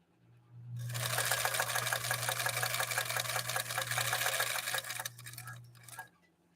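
A 1954 Husqvarna sewing machine stitches in a steady, rapid mechanical clatter over a low motor hum, running for about five seconds before winding down and stopping.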